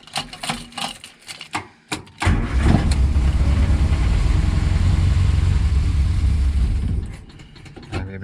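Morris Minor car engine on a budget build: several short cranking bursts and clicks, then the engine catches and runs at a steady, loud idle for several seconds before dropping back to quieter mechanical noises.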